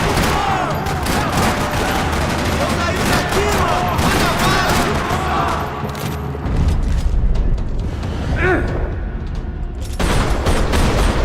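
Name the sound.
gunfire in a parking lot, video game Max Payne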